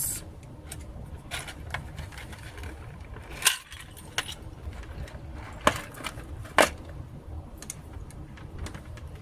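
Small metal and plastic clicks and taps from handling a calligraphy pen while loading a nib, a few sharp close knocks over a quiet room background, no talking.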